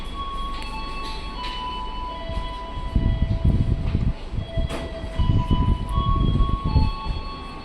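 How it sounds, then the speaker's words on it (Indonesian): A passenger train on an Indonesian line rolls past at close range, its wheels rumbling and clattering loudly in uneven bursts while a steady whine and tones hang over the noise. "Ini kereta apa ya?"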